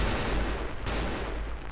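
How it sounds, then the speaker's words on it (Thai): Loud gunfire in the shooter game XSHOT, a dense continuous burst of shots with a brief break near the middle, close and harsh, no talking. "ปืนเสียงโคตรดังเลย"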